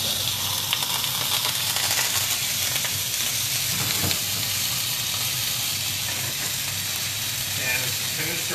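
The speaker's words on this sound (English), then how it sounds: "I'm going to add the spinach." Fresh spinach hitting a hot pan after fish has cooked in it, a steady crackling sizzle with some hiss and stirring, close and moderately loud throughout.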